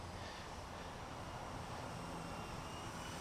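A steady, loud engine whine and rotor drone fill the air without a break, a Blade 120 S2 small model helicopter hovering close by outdoors with no voices.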